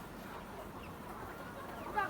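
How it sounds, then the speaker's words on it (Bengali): Thousands of layer hens in a poultry farm shed cluck faintly as a soft, continuous flock murmur, with one brief, slightly louder call rising near the end. "দেখতে পাচ্ছেন এখানে মুরগি হাজার হাজার মুরগি আছে"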